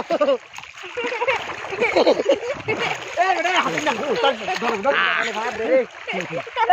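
People bathe together in a village river, splashing and sloshing through cold water close by. The irregular splashes continue throughout under lively overlapping voices talking and calling out.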